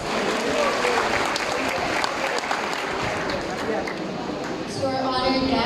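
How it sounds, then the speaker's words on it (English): Applause at a senior high school graduation ceremony, a big hall full of sustained clapping that stays loud and continuous, with crowd chatter and voices heard underneath. "Let us give her a round of applause."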